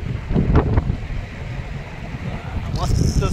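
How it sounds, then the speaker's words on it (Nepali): Cold wind on a hill road in Himachal Pradesh buffets the microphone with a loud, continuous low rumble, and someone talks briefly over it. "चिसो हावा, यस्तो मजाको हावा छ नि"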